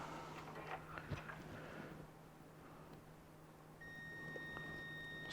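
A multimeter continuity beep sounds on the headlight wiring of a '97 Firebird, a thin steady electronic tone starting partway through and holding to the end over faint background noise.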